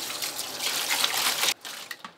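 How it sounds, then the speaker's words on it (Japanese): Cold water runs and splashes steadily as salted anago eel is rinsed and rubbed by hand at a sushi kitchen sink, close and fairly loud, cutting off near the end. "今度は冷水で洗いながら塩味がなくなるまで揉む。"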